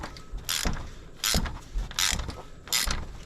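Ratchet on an extension tightening a new oil filter on a 2016-or-later V6 Toyota Tacoma: four quick bursts of close, crisp clicking ratchet strokes with brief pauses between them, no talking.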